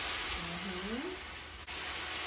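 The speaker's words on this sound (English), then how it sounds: "When you put the wine in, it's really gonna steam." Red wine poured into a hot pan for a chicken and mushroom risotto steams and hisses with a steady broadband sizzle, close and fairly quiet, while a person talks over it.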